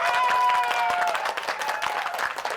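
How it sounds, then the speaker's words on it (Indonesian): Audience applause for a performer promoting a debut album, dense clapping from a crowd with a tonal voice or music line briefly over it at the start. "Tepuk tangan untuk beliau."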